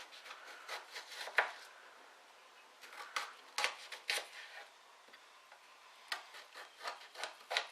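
A knife chops vegetables on a cutting board, giving faint, close, irregular taps and scraping rubs in short bursts with quiet gaps between strokes.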